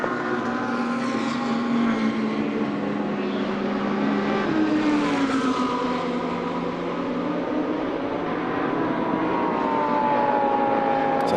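A Lamborghini GT2 race car at Paul Ricard during a GT2 European Series race gives a loud, sustained engine roar whose pitch climbs and dips as it passes, continuous throughout with no talking.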